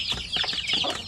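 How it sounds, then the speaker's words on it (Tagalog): Chicks chirping and peeping at feeding time in a backyard coop, a busy cluster of high, overlapping calls heard close up. "ngayon ay magpakain tayo sa ating mga sisiw ngayon"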